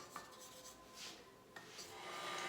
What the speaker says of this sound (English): The sides need some scraping.